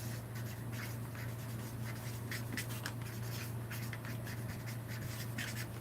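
A pen scratches steadily across a paper prompt card as a date is written, a continuous soft rubbing with small strokes over a low background hum, close and without speech.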